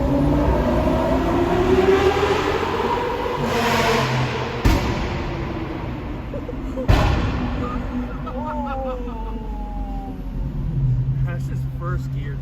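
A very loud Lamborghini engine revs in first gear, its pitch climbing under a steady road drone, while people inside talk.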